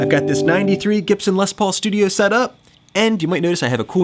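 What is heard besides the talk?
No everyday noise stands out behind the speech.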